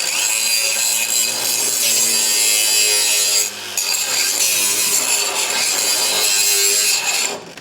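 A power tool grinding down welds on the sheet-metal firewall of a 1937 Lincoln Zephyr, a loud, continuous abrasive whine close by with one brief dip partway through.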